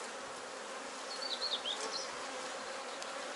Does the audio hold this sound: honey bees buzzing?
yes